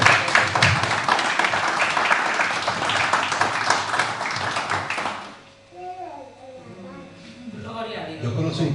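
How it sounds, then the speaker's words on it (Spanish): Pentecostal congregation in a church in Ourense applauds loudly for about five seconds, then the clapping stops and a voice begins talking. "¿Quién le da un aplauso a Jesús por eso?"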